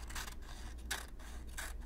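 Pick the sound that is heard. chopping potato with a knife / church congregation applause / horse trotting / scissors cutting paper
scissors cutting paper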